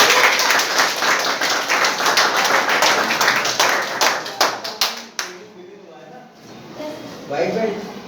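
A classroom of students claps for a classmate who won a karate gold medal; dense hand clapping fills the first five seconds and then trails off into a few scattered claps, with voices talking.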